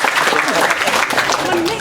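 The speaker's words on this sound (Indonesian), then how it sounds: "Tepuk tangan." Audience applause at a gathering at a village temple in Bali, a short wash of clapping that blends with crowd voices throughout.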